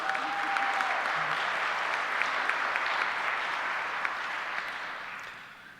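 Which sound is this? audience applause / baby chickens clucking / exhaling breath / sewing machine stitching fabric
audience applause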